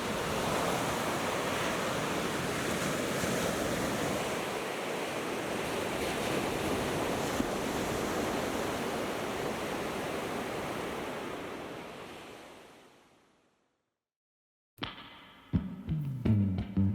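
Ocean surf breaks steadily on the beach at Sayulita, Mexico, a broad continuous roar with some wind, loud and close, fading out near the end before a few brief faint knocks.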